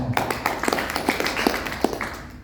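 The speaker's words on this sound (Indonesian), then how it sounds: "Boleh tepuk tangan bagi kita." Sparse audience clapping at a health talk on terahertz therapy, a handful of distinct claps with uneven rhythm and background murmur.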